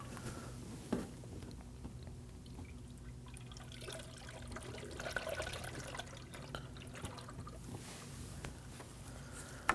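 Coolant is poured through a funnel into the reservoir of a Nissan Armada with a 5.6L V8, producing a faint, steady trickle and gurgle close by, with a few light knocks.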